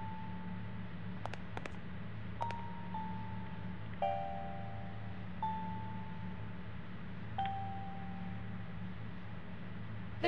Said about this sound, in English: There's a piano in this closet.